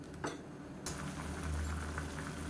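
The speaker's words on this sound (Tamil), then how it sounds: "இப்போ தண்ணி நல்லா கொதிக்க ஆரம்பிக்குது." Water coming to a boil in a pot for mushroom biryani, a soft steady bubbling hiss that starts after a brief clatter and carries on at low level, close by, with no talk.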